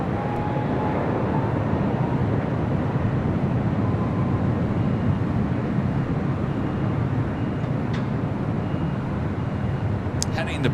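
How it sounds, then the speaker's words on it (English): Boeing 737-800 airliner taking off at LAX, a steady broad jet roar that holds at a constant level throughout, with a few brief faint ticks near the end. "It's like 2265 is 737-800 taking off there."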